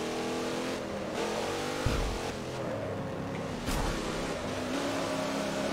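Racing car engine in a racing video game, climbing an uphill section in pursuit of the leader, a loud continuous motor drone with shifting pitch as revs rise and drop through gear changes, plus a couple of brief thumps.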